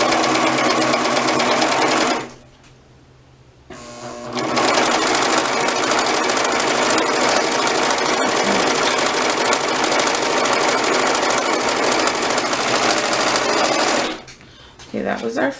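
A sewing machine stitches a leg seam in single brushed poly fabric, running loud and steady in long bursts with a brief pause near the start and a stop near the end.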